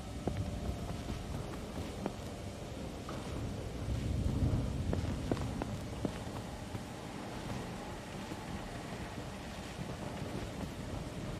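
Thunder from lightning in the dark video game Where's Oswald, a low rolling rumble with a swell of storm noise in the middle and scattered sharp crackles, steady and fairly loud with no talking.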